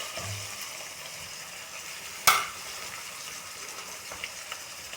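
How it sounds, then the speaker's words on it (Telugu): Ginger paste frying in a pan for a potato tomato curry, a soft, low sizzle interrupted by one sharp metallic clink of a utensil midway and a couple of faint taps later. "అల్లం పేస్ట్ కొంచెం ఫ్రై అయినాక"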